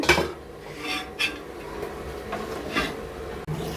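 Bottle gourd dosa batter being stirred by hand in a vessel, giving soft scraping and sloshing with a few light clinks against the metal sides, close and steady throughout.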